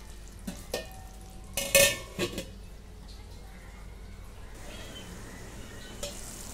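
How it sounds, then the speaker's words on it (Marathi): Shahi paneer gravy with kasuri methi cooks on a low flame, a soft sizzle under a few sharp clinks and scrapes of a spoon stirring in the pan. "कसुरी मेथी मिक्स करून घेते आणि बारीक गॅस करून अजून एकदा 5 मिनिटं पनीर बरोबर शिजवून घेते"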